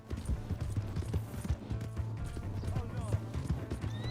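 A horse gallops in Red Dead Redemption 2, a fast, rhythmic clip-clop of hooves close by for about four seconds, with a short spoken exclamation over it.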